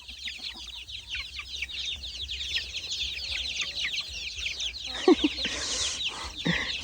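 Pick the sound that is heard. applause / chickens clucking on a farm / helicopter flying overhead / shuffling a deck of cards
chickens clucking on a farm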